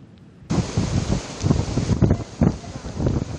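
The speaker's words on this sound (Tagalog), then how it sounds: "mula kaninang umaga hanggang ngayon patuloy ang nararanasang pag-ulan at minsan ang paglakas ng hangin" Strong typhoon wind and rain from Typhoon Pepito lashing the coast of Catarman, Northern Samar: loud, broad roaring gusts buffet the microphone in surging waves, continuous and close throughout.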